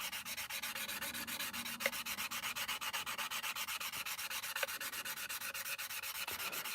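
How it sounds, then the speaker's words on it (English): Steady rhythmic rubbing strokes of a flexi file sanding plastic Airfix Concorde model parts, a quick, even back-and-forth rasp close to the mic, with a few faint clicks and no speech. "To sand these down."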